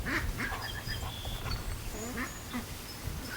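Pekin ducks quack repeatedly near a muddy hole by a lake, a steady cluster of overlapping calls over constant outdoor background noise.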